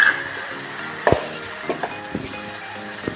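Dried manathakkali berries sauté in oil for vatha kuzhambu with a gentle sizzle, broken by a few clinks and scrapes from stirring, over faint background music.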